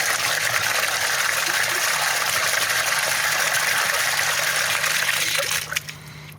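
Water flowing through a drip irrigation system under low pressure, a steady close gushing trickle that eases off near the end.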